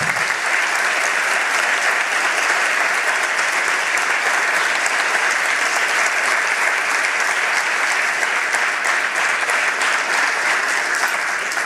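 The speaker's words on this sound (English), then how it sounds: "Let's hear a round of applause for our candidates." Sustained loud applause from a large audience at a congressional candidate forum, a steady wash of clapping that holds at full strength from start to finish.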